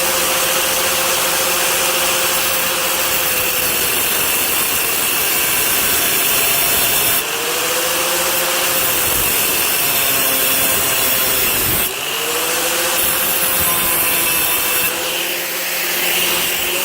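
Saw cutting through a generator exhaust pipe held tight in a vise, a loud continuous metallic rasp with steady back-and-forth strokes, briefly interrupted a couple of times, close and unbroken for most of the span.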